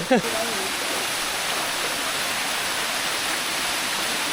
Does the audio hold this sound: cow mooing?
no